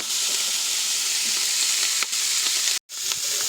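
Kielbasa sizzles and spits steadily in a big pot over an outdoor fire, a close, continuous frying hiss broken by a brief cut near the end.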